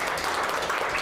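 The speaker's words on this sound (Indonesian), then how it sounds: "tepuk tangan dulu untuk Prof." Audience applause for Prof. Ahmad Ramli at a talk on AI regulation in Indonesia, a steady dense wash of clapping filling the whole moment without pause.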